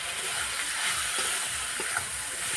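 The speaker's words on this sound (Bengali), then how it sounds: "মশলাটা ভালোভাবে কষিয়ে নেব।" Ground cumin, chili and turmeric sautéing in a pan for a jackfruit and prawn curry, a steady close sizzle with faint stirring scrapes throughout.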